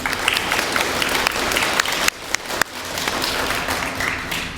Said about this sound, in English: If you guys can clap for your teachers.